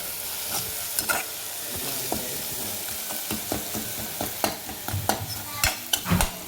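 Chopped spring onion greens are sautéed in a spiced pan for pithla. A busy hiss carries repeated knocks and scrapes of a spoon stirring, and the clatter grows quicker and louder toward the end, with no talking.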